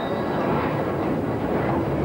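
London Underground Northern Line train heard as a steady, loud rumble of wheels and carriage noise filling the whole stretch, with no clear talk.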